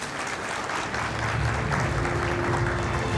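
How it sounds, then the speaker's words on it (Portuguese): Applause from guests at the close of an event about smart cities: a continuous patter of many hands clapping at moderate distance, steady and slightly swelling, with no voices over it. "Uma salva de palmas aos nossos convidados."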